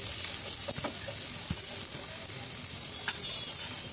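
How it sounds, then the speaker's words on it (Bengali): Sliced onions and green chillies frying gently in oil, a constant close sizzle with occasional soft stirring taps, alone without talk. "দিলাম পেঁয়াজ, কাঁচামরিচ, এগুলো একটু ভেজে নিব"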